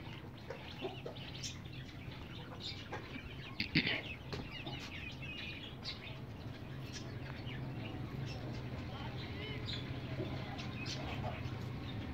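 A Pakistani laying hen clucks softly amid other fowl in a yard, with low scattered clucks and faint wing flaps over a steady background hum. One louder burst of sound comes partway through.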